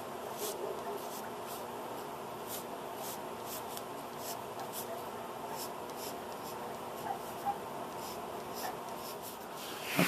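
Pen or marker drawing lines on a leather holster pattern, a soft continuous scratchy scraping with repeated short strokes, quiet and close, with no talk over it.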